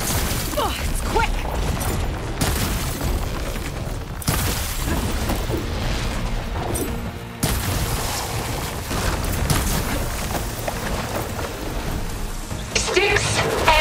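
A thunderstorm with lightning in the video game Horizon Forbidden West: heavy rain hisses steadily while several loud thunder cracks and rumbles break through, mixed with mechanical game sounds throughout.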